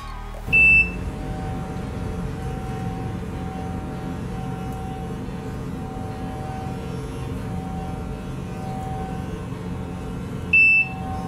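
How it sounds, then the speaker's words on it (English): A Conair True Glow sonic facial cleansing brush gives two short, sharp beeps about ten seconds apart, each clear above a low steady hum. "When it finishes, it's going to beep twice instead of once."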